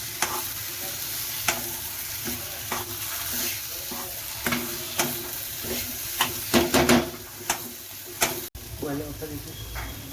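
A spoon stirs sweet potato sheera with sugar and dry fruits in a pan, giving repeated scraping strokes and light knocks against the metal over a soft frying sizzle, close and uneven in rhythm, with no talking.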